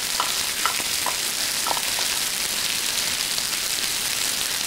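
Bamboo shoots added to turkey in a hot wok for five-spice stir-fry, a steady loud sizzle like heavy rain, with a few quick clinks and stirring scrapes near the start.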